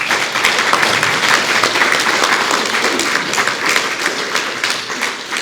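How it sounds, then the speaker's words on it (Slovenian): Loud, dense audience applause fills all five seconds without a break, from a panel discussion on genetically modified versus sustainably grown food. "En velik aplavz za njo."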